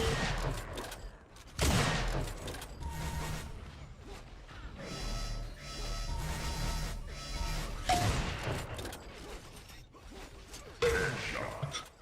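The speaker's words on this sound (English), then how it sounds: "Another headshot for Aiko, ridiculous." Dense, rapid gunfire and weapon blasts from an Unreal Tournament 4 4v4 competitive match, with overlapping shots, impacts and whooshes in a continuous busy stream, loud and close throughout.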